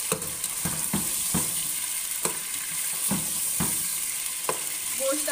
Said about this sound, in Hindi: अब इसको फ्राई कर लेना है अच्छी तरह।